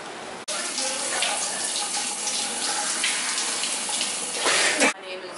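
Steady hiss of shower water running continuously, fairly close and even in level, with a brief swell near the end before it cuts off.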